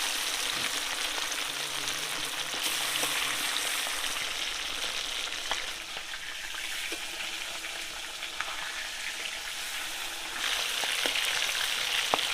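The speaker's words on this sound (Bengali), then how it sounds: "এখন সুন্দর করে ভেজে নেব। সর্ষের তেল," Fish frying in mustard oil in a village-style kitchen, a steady continuous sizzle and crackle throughout, fairly close, with a brief clatter now and then and no talk.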